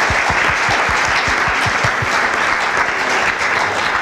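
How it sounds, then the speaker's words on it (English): An audience at a panel discussion on refugees, migrants and immigrants gives a loud, dense round of applause that runs throughout, with a few heavy low thumps early on. "I think that our panel deserves another round of applause before we start talking."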